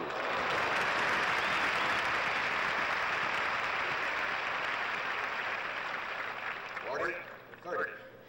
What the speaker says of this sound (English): Margaret applauding herself there too